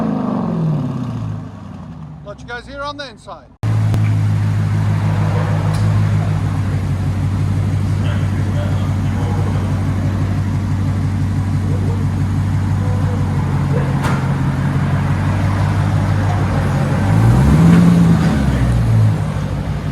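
Inside a Dodge Challenger with a six-speed manual, the engine fills the cabin after a brief rustle, holding a loud, steady low rumble that swells near the end as revs climb and fall.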